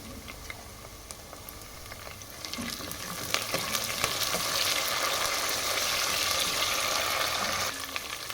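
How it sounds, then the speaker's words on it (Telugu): Curry leaves frying with onions in hot oil for tomato dal, a steady sizzle that swells louder midway, with spoon scrapes and light clinks close up and no talking. "ఇలా ఆనియన్ ఫ్రై అయిన తర్వాత కరివేపాకు వేసుకోవాలి"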